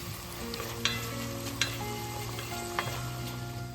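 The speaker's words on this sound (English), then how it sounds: "add 200 grams of minced meat and break it into fine crumbles" Minced meat frying with onions in oil, a steady sizzle running throughout while a utensil stirs and scrapes the pan in a few distinct knocks, close and alone with no talk.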